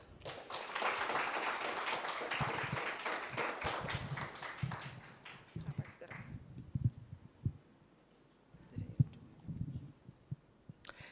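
An audience at a media roadshow launch event gives a round of applause. The dense clapping fills the first half, then thins out and fades as voices take over.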